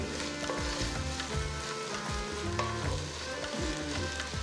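Ginger garlic paste spattering in hot oil while making Telangana bagara rice, a dense, close sizzle with crackling pops that holds steady throughout.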